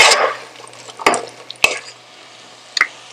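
Chopped green chilies stirred in a hot pan, several sharp scraping spatula strokes with sizzling bursts separated by quieter gaps, close and loud.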